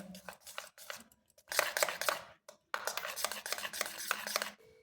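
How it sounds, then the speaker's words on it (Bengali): Milk cream (malai) being mixed for paratha stuffing gives close, wet scraping and stirring strokes in irregular bursts separated by short pauses, with no talk over them. "সরটা এখন ভালো করে মেখে নিতে হবে।"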